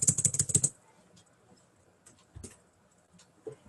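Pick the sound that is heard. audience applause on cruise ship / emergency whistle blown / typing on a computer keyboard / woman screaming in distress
typing on a computer keyboard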